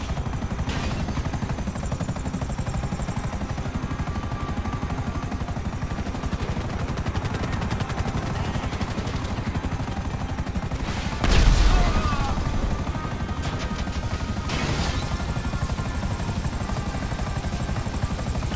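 Steady, loud helicopter rotor drone throughout in the video game Grand Theft Auto V, with a couple of louder bursts of gunfire or impacts partway through.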